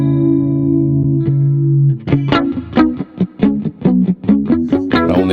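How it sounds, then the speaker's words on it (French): Electric guitar played through a shimmer delay on a Boss GX-1 multi-effects unit: sustained chords ring out, then a run of plucked notes repeats with bright, airy echoes trailing each one. "on a des délais shimmer qui sont très chouettes aussi"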